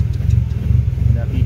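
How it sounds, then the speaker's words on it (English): Honda Civic with a SOHC turbo VTEC engine idling with a steady, rhythmic lumpy lope, close and loud, a low pulsing engine note running throughout. "That VTEC lope."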